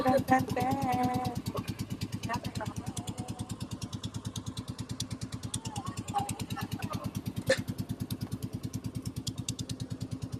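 A motorcycle engine runs steadily at a fast, even idle-like putter close by, with people talking over it early on.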